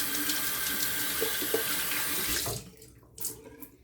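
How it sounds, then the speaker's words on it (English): Tap water runs steadily as hands are rinsed under the faucet for about two and a half seconds, then cuts off, leaving a few small drips and clatters nearby. "rinse off our hands"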